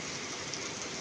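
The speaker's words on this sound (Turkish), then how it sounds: "Şu anda inanılmaz bir yağmur" Heavy rain pours down in a storm at Ureki on the Georgian Black Sea coast. The hiss is dense and steady, with no pauses and no voices.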